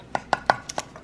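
A knife chopping through cinnamon roll dough onto a board or plate, five quick, crisp taps in about a second, close and distinct.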